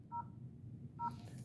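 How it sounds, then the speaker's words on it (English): Two short touch-tone telephone keypresses, spaced about a second apart, while dialing City Hall in Boston; clear beeps over a low background hum, with a faint rustle after the second tone. "So I'm dialing"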